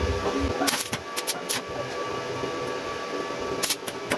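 An iron rod is cut with a high-amperage arc welder, giving close, harsh crackling and sputtering bursts that come in irregular clusters over a steady buzzing background.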